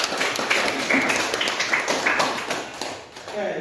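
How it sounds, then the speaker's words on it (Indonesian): A brief burst of clapping from a small group in a classroom, steady and crisp for a few seconds before tapering off slightly. "kita berikan tepuk tangan dulu."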